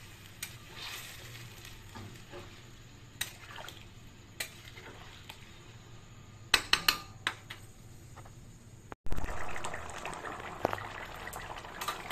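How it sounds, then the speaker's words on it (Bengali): Hot water goes into a vegetarian Bengali curry of potato and pointed gourd. Scattered utensil knocks and clinks come first, then a sudden loud rush of liquid hitting the hot pan, followed by continuous bubbling with occasional clanks. "এখন গরম জলটা ঢেলে দেবো"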